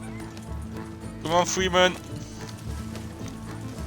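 Hoofbeats of a horse in Red Dead Redemption 2 rush by in a brief quick clatter of clip-clops, fairly close, over a steady game music and ambience bed while someone speaks.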